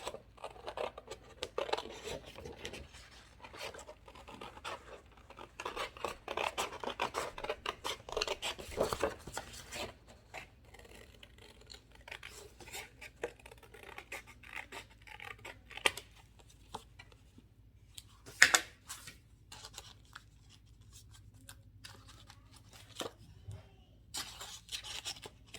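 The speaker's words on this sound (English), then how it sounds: "all we're going to do next is cut out our stencil" Scissors cutting a traced paper stencil, quiet irregular snips and paper rustling up close, with occasional sharper clicks and soft handling noises throughout.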